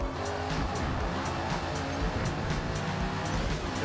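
Stock cars in a NASCAR racing video game at Watkins Glen, a loud continuous engine roar with a brief impact thump as one car drives into the rear of another, no talk.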